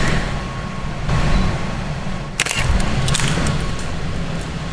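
A camera shutter fires during a wing-light ceiling-bounce shoot, giving a quick pair of sharp mechanical clicks over a steady, noisy room hum.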